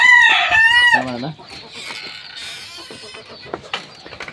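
Desi chickens on a large Shariatpur poultry farm give a loud nearby crow-like call followed by clucking and scattered farmyard noises as the birds settle.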